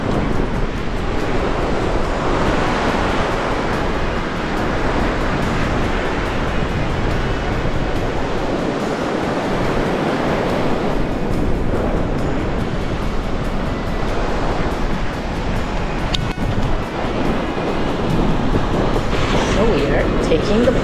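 Ocean waves roll steadily onto a Florida beach in a dense, continuous roar of surf, with heavy wind buffeting the microphone throughout. Voices can be made out faintly under the noise.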